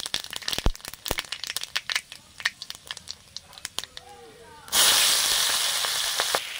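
Scattered crackles and pops give way to a sudden loud, sustained sizzle as panch phoron spices hit hot frying oil in a pan, close and continuous to the end.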